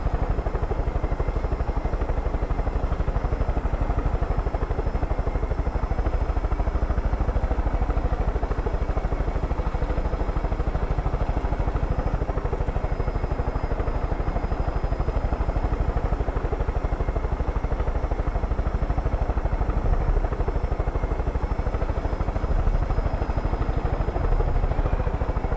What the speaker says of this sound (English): Hopefully this is the right helicopter.